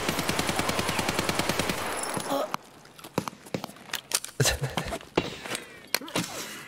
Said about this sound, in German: schießt der Nächste auf mich